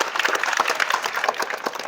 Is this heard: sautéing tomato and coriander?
no